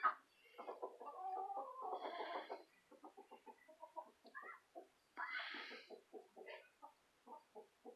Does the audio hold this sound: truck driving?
no